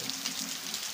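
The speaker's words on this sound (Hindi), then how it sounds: "देखिए दोस्तों, भयंकर बारिश पहाड़ों में" Heavy rain falls in the mountains as a soft, even hiss of drops on surfaces, steady and fairly faint, with no voices.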